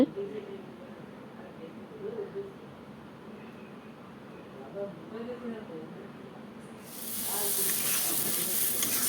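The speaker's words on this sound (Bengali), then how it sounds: "ঝুল দিয়ে কষানোর পর ঝুল দিয়ে ভালো করে আবার কষানো হয়েছে" Spice paste for a vegetarian pointed gourd, potato and ridge gourd curry sizzles and bubbles in a pan with added gravy liquid, a steady close frying hiss that swells louder near the end.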